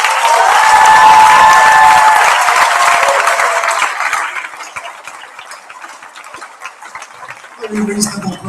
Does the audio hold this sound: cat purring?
no